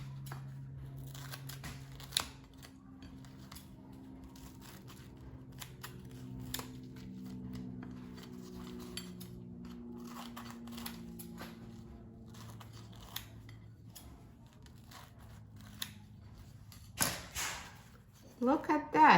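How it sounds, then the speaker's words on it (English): Scissors snip through a vegan hummus quesadilla in a few quiet, crisp cuts, with a louder crunchy run of snips near the end and a person talking throughout. "The easiest way to slice the quesadilla is to use scissors."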